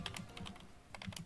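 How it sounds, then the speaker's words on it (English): Someone types quickly on a computer keyboard during an online tabletop game session, a soft, fairly quiet patter of irregular key clicks with a brief pause in the middle. "you're typing up the secret action that you're gonna try to trigger immediately"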